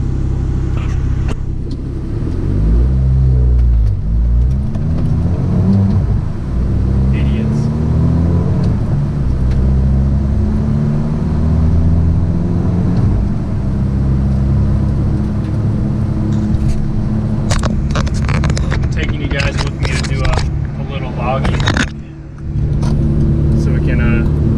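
A tuned car with a water-methanol injection upgrade drives on a test run, its engine rumbling loud and close with rising and falling revs throughout, brief sharper noises near the end.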